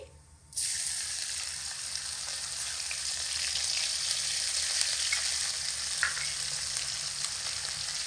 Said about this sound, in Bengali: এক চামচ গোটা জিরে এখানে দিয়ে দিচ্ছি এক ডুমি আদা বাটা আর চারটে কাঁচা লঙ্কা হাফ বাটা করে নিয়েছি